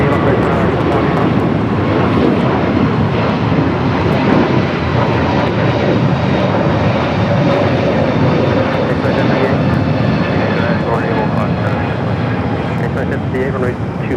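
A jet airliner roars down runway 25 right at LAX on takeoff, a loud continuous engine rumble that holds steady throughout, with radio voices faintly mixed in.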